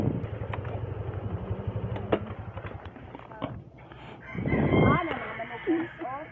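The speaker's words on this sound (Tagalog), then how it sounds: "Naay mga manok diri." Chickens clucking and a rooster crowing nearby on a farm in Barangay Makilas, Ipil, with busy outdoor background noise and scattered sounds of movement.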